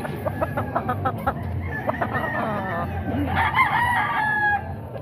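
A ten-month-old rooster crows at a Bocaue poultry market, a long loud call rising near the end, with clucks and other fowl noise around it and some talk underneath.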